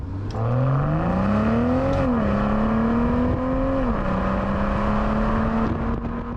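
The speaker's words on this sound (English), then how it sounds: "the B58 gives some lovely little rumbles from the exhaust still, even in the LCI" BMW M340i xDrive LCI with the B58 engine in Sport Plus, its exhaust giving a steady, close engine drone whose pitch climbs, dips and settles as the car pulls through the gears, with no talk over it.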